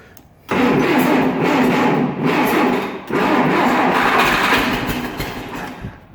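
A cold Allis Chalmers D15 tractor, left sitting for a couple of months, is started with the choke pulled. The engine catches abruptly and runs loud and close, stumbles briefly, then roars on steadily.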